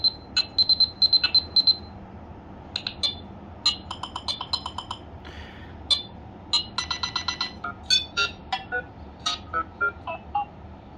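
Bright synthesized Nothing Phone ringtones made with Teenage Engineering, in short bursts and quick beeping sequences, playing one after another with brief gaps and no talking.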